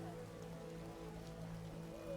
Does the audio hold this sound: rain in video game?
yes